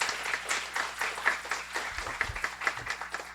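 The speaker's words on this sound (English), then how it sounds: "Please, a round of applause." Scattered applause at a guide dog school graduation, a loose patter of individual hand claps from a modest audience, fairly quiet and uneven in rhythm, with a few louder claps standing out.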